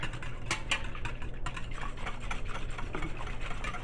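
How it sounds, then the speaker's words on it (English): Rapid, continuous metallic clicking and clattering of a whisk against a pot, busy and close, with no talking. "I'm going to whisk that in really good."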